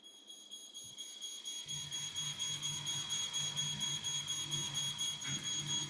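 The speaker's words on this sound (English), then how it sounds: "The smoke alarm on the second floor now activates." A high, piercing home smoke alarm on a second floor beeps steadily and continuously, with a low hum joining partway through.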